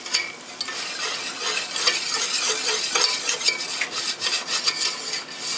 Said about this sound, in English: I'm going to whisk this together